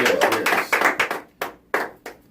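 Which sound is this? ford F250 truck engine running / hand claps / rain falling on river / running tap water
hand claps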